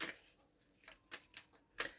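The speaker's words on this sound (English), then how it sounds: "All the cards are getting quite jumpy here, so I won't hang around too long shuffling." A few brief, soft card shuffles and riffles, scattered short bursts with quiet gaps between them, close and faint.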